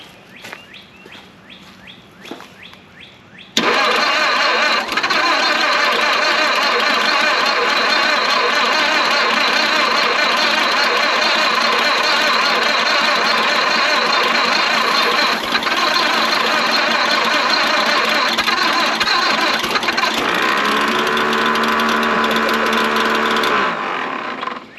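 After a few quiet seconds the engine of an abandoned 1929 Doodlebug, left sitting for years, bursts into life and runs loud and steady, with a change in its tone near the end as it keeps idling.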